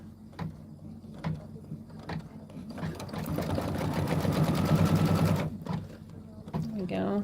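A sewing machine stitches down an embroidered beehive quilt block, a steady mechanical whir rising in the middle, with ticking clicks before and after and a voice speaking nearby.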